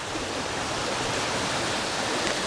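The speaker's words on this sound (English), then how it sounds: "I don't know where all this water is coming from because it hasn't really rained in about a week" Water rushes steadily through a small, narrow culvert at the bottom of a steep hill. The flow is a dense, continuous close-up roar with no talking.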